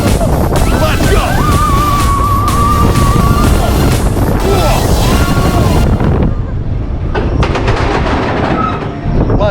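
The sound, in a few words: Seven Dwarfs Mine Train roller coaster ride at Disney World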